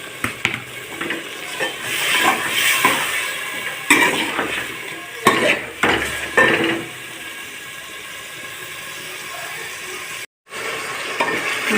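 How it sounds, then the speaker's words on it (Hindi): Cut potatoes frying with spices in a pan, stirred with irregular scraping strokes over a steady close sizzle, followed by a brief silence near the end. "ये मसाले और आलू मैंने अच्छी तरह भून लिए।"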